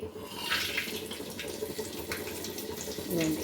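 Whole spices and bay leaves dropped into a spoonful of hot ghee for egg fried rice give a steady, close broadband sizzle with a louder crackling burst near the end.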